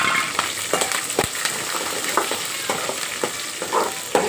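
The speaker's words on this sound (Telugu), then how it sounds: "ఇప్పుడు ఉల్లిపాయ పచ్చిమిరకాయ వేస్తున్నాను." Onion and green chillies dropped into a hot tempering of curry leaves, garlic, urad dal, mustard seeds, chana dal and cumin for a potato fry, giving a steady close sizzle with scattered crackles and stirring clicks throughout, no voices.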